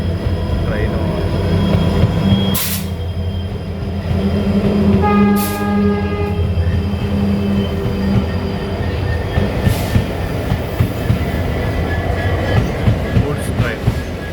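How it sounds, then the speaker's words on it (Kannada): A long goods train rolls past a crossing on the Sakleshpur–Mangalore ghat railway, a loud continuous rumble of wagons and wheels with a short horn blast and faint wheel squeal. "ನೋಡಿ ಗೂಡ್ಸ್ ಟ್ರೈನು ಎಷ್ಟು ಉದ್ದ ಇರುತ್ತೆ."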